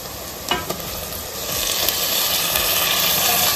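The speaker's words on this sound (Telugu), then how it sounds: "దీంట్లో ఇప్పుడు మటన్ వేసుకుంటున్నాను." Mutton pieces dropped into a pan of fried, translucent onions set off a loud, steady sizzle and hiss, with a few scraping stirs near the start, building fuller as the meat heats in a restaurant-style kadai dish.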